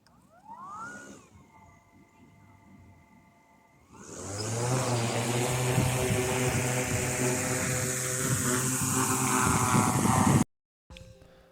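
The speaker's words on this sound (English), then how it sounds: "I'm just going to do a bit of a live talk over on the drone here as it's flying." DJI Matrice 4E drone spinning up from a short whine into a loud, steady rotor buzz that holds for several seconds, then cuts off abruptly, with no talk over it.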